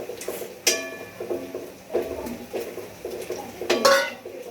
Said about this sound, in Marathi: रुक, पहिला हिला तो दे. हलवून घेऊया.